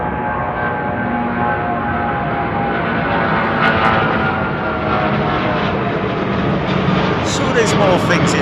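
Concorde airliner departs London Heathrow overhead with a loud, continuous engine roar that fills the whole stretch, broad and harsh, with no letup.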